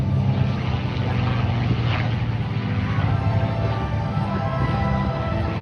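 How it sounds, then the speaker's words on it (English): North American P-51 Mustang propeller fighter making a low pass at the Jones Beach airshow, a steady loud engine roar that holds throughout with no voices over it. "down on the deck there, the North American Mustang"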